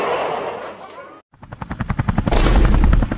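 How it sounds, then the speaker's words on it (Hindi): A helicopter starts up after a brief hush, its rotor thumps beginning as distinct beats and quickly speeding into a loud, rapid chopping pulse over a rising engine whine. "मेरा हेलीकॉप्टर कैसे चालू हो गया?"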